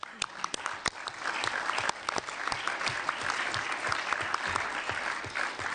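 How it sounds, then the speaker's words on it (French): Audience at an artificial intelligence and justice conference claps for several seconds, a dense, steady round of applause with sharp individual claps close by. "Oui, on peut les applaudir."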